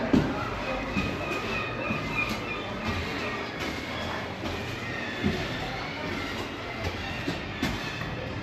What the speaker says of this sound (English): let's take a ride on this tramway to the beach, this funicular